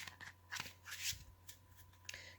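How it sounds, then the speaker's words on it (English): Oracle cards from a witches-themed deck being shuffled by hand, a faint, soft run of riffling and sliding flicks in uneven bursts with no talking. "Sometimes I find cards just is so hard to shuffle and I feel like they're not getting shuffled properly"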